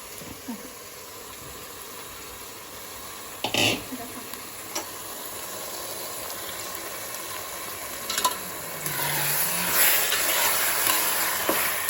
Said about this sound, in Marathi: मटन टाकून घेतल्यानंतर नंतर असं हलवून घ्यायचं मटणाला